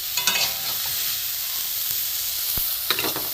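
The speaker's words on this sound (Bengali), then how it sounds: "ফুলগুলো একটু ভাজা হোক" Steady sizzle of drumstick flowers frying in hot oil in a wok, with a few clinks of a utensil stirring near the start and end.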